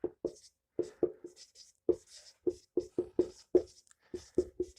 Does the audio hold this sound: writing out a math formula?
yes